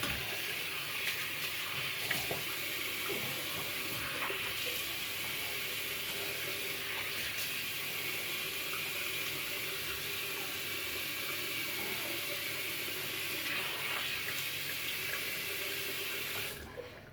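A bathroom tap runs steadily into a sink for about seventeen seconds while a face is rinsed after shaving, a constant close hiss of water that cuts off at the end.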